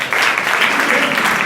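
Schoolchildren at an inter college adolescence education workshop clap together in a brisk, even burst that fills the room at a constant level from start to finish.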